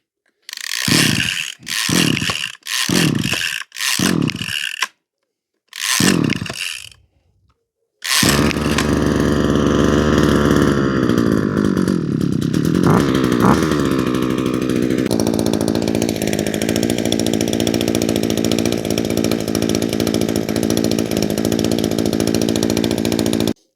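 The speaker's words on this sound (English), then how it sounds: "Next up, we have the Husky 321C. We're going to cold start it." A Husqvarna 321C string trimmer gets a cold start: several sharp pull-cord rips with pauses, then the small two-stroke engine catches and runs loudly and continuously, with its pitch shifting as it settles.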